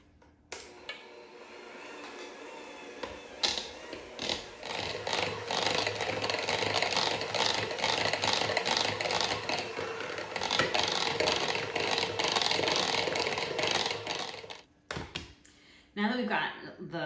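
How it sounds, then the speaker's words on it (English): An electric mixer whips eight ounces of room temperature cream cheese in a mixing bowl, giving a steady close whirring and rattling that runs for most of the stretch, then stops near the end, with a voice talking briefly. "In my mixing bowl, I have 8 ounces of room temperature cream cheese, and we're gonna start by just whipping it up"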